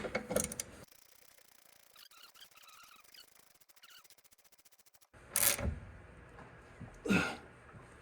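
Wrench turning a new nylon lock nut onto the lower rear shock mount of a 2015-2020 Honda Fit, with a fast run of small ratcheting clicks in the middle and a few louder clanks and knocks near the end, no talk.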